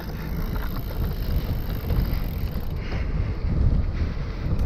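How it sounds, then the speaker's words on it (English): Wind roars across the microphone while a road bike is ridden into a headwind in the Isle of Axholme. The blustery low rumble gusts and swells, loud and close, with no talking. "I'm loving this headwind."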